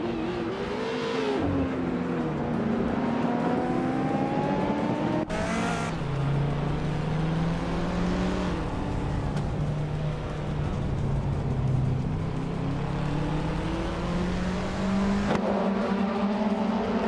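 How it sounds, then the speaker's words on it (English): A 1996 Peugeot 406 in a racing game roars steadily through continuous engine drone, its pitch climbing and dropping through gear shifts, loud and close from start to finish without talk. "Rana Rampage is driving a 1996 Peugeot 406"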